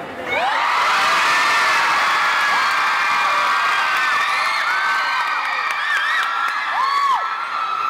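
Fans at a mall stage event cheer and scream loudly for a boy band, a dense, sustained wall of high-pitched shouting and whoops that carries on without a break.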